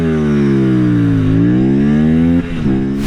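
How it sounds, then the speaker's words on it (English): Kawasaki Ninja 500 SE parallel-twin motorcycle engine, close and loud, revving up and easing off in a steady lawnmower-like drone with a brief dip near the end. "this motorcycle does make the traditional kind of lawnmower-y parallel twin sound"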